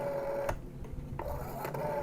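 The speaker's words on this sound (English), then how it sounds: "a mechanical device that counts the number of clicks depending on how far this dial is turned" Soft mechanical whirring with a few distinct clicks spaced apart, like a rotary dial turning and spinning back, under a faint steady tone.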